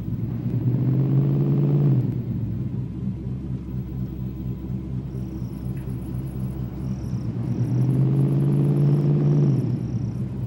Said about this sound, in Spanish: Típico motor V8 a gasolina.